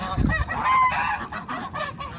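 Loud honking quacks from nearby farm ducks, several nasal calls in quick succession with a thump at the start, in a muddy yard.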